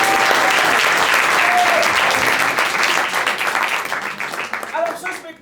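An audience at the Impro en Seine 2025 improv theatre festival applauds the improvising pianist, brisk full clapping that thins out and tapers off toward the end.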